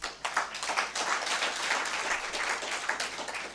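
Audience applause at an African regional sustainability conference, a full hall clapping steadily after a professor's talk, dense and even with a few sharper individual claps standing out near the start and end.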